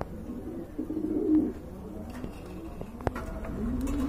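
Lahori pigeons, a big quality pair, cooing softly at close range in a low, murmuring run that swells around the middle, with light shuffling and a sharp knock partway through.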